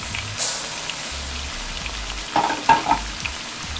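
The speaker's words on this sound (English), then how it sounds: "We're going to stir that around so that it can begin to absorb the butter." Two cups of basmati rice stirred into melted butter over a medium flame, a soft steady sizzle with a brief rustle early on and a cluster of louder stirring scrapes toward the end.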